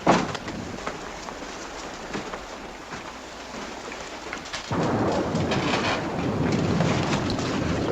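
Steady rain pours throughout a wartime night scene, with rolling thunder rumbling near the start and the downpour growing heavier and louder partway through, no voices over it.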